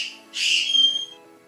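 Pet parrots whistling indoors, a single bright, clear whistle lasting about a second, heard alone with nothing else around it.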